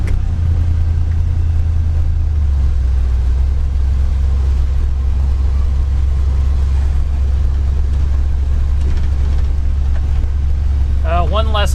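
A 1964 Dodge Custom 880 engine roars loud and close during a burnout in snow during a Texas blizzard, a heavy continuous low rumble with a rising rev near the end, and voices talking over it.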